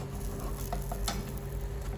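Soft, steady sizzling of an omelette frying in a pan, with a few faint scraping taps over a low constant hum.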